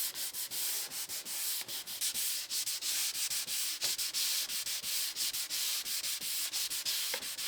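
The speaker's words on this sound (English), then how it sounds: "once I finish with this hand sanding" Hand sanding a wooden cutting board: steady, close rasping strokes in a brisk back-and-forth rhythm, continuous and alone with no voices.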